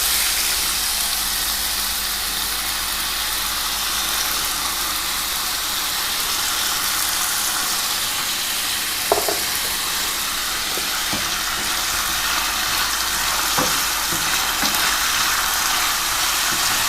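Thinly sliced potatoes frying in oil for an Afghani omelette hiss in a loud, unbroken sizzle that holds steady throughout, with only a few faint taps on top.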